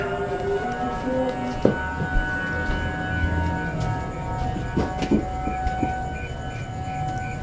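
A drawn-out siren tone wails steadily above a low rumbling background, with scattered clanks and knocks, moderately loud and without speech.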